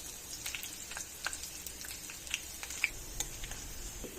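Dried red chillies and chopped garlic frying in hot oil, a soft continuous sizzle and crackle with faint scattered pops and an occasional utensil clink, close and fairly quiet, no talk.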